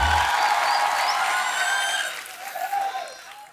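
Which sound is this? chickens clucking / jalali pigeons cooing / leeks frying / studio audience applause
studio audience applause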